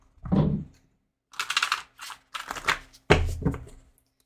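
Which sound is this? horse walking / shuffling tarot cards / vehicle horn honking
shuffling tarot cards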